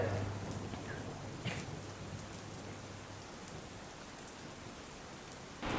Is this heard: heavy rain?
yes